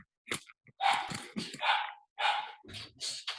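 A dog barks repeatedly indoors behind a closed door, sharp loud barks in irregular bursts with short yelping notes between them, no talk.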